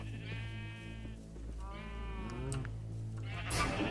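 Sheep in a video game bleat a few times in quick succession, with low, wavering, nasal cries over a steady low background hum and no talk.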